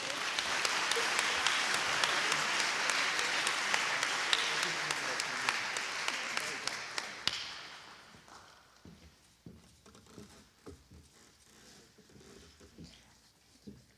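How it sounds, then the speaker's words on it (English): Sustained audience applause at a campus awards ceremony for two honorees, dense and steady for about seven seconds before stopping abruptly, leaving quiet room noise with faint voices. "So let's give a big round of applause to Jocelyn and Eric."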